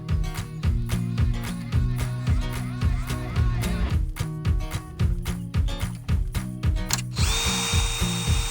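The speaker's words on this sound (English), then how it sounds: "And all of our holes are drilled and our exhaust hole is drilled." A power drill runs in repeated short bursts, whirring up and cutting off again and again, close and loud, drilling holes in brushed aluminum inside a 1998 truck camper.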